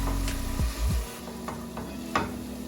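Onions with paprika and tomato paste are stirred in a pan for plant-based cabbage rolls, with a few low scraping strokes and a sharp clack over a gentle sizzle.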